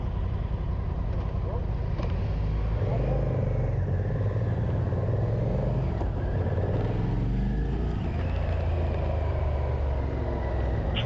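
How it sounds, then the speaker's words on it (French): A Honda NT1100 motorcycle, built on the Africa Twin base, rumbles steadily on the road. Its engine note rises and falls in smooth revving sweeps over a low, constant drone, with muffled talk underneath. "Le pot d'échappement est bien travaillé, il y a un joli son."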